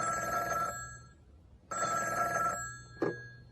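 A telephone rings in two clear bursts of a steady electronic bell tone, then a short click as the handset is picked up; no talk.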